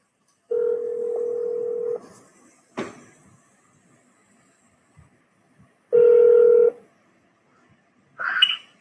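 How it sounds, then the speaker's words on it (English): Telephone dialing tones as a phone call is placed, two clear sustained tone bursts with short clicks and gaps between them, loud and close with no talking. "One more phone call."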